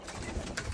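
Pigeons coo softly inside a quail shed, a few low, muffled calls close by over a faint background hum.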